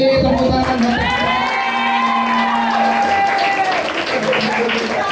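Crowd applause and cheering with children shouting at a primary school grade 6 graduation and farewell ceremony, loud and continuous throughout, with a voice rising over the noise.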